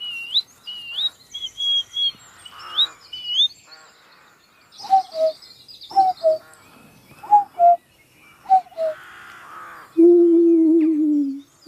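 A voice imitates birds at an outdoor spot, producing a series of short whistled chirps and warbling calls, then a longer, steady hoot-like call at the end, each call close and fairly loud against a quiet background.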